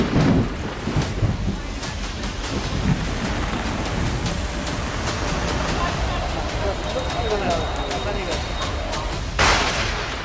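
Heavy monsoon rain pours down during the Maharashtra floods, a dense, loud, unbroken roar of falling water with sharp cracks of thunder scattered throughout.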